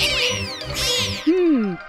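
High, chirpy squeaks and short pulsing sounds come first, then a cat gives one clear, falling meow nearby near the end.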